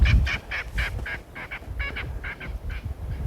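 A startled bird on a private nature reserve lets out a rapid series of loud, harsh honking calls, about a dozen bursts in quick succession, close and alone.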